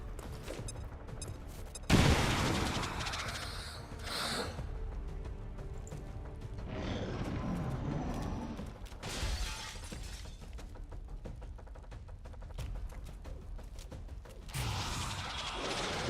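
A frag grenade blast in the alien-combat game XCOM 2: a sudden loud burst at about two seconds, followed by a long crackling, shattering wash of debris and scattered rumbling blasts that fade and swell.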